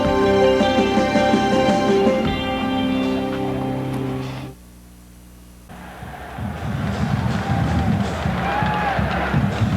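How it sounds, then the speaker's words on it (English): A huge crowd roars and cheers at Michigan Stadium during a college football game, a loud sustained din that drops briefly into a near-silent gap before swelling back up. "The crowd got back into it"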